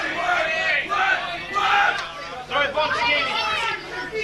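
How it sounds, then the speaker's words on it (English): A crowd at a live kickboxing fight night yells and cheers loudly, with a roaring wall of shouts and voices urging a fighter on. "The crowd getting behind Kenny, willing him on"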